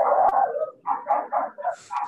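A dog barks in a quick run of five or six short, loud bursts close to the microphone during an online class, with no talk over it.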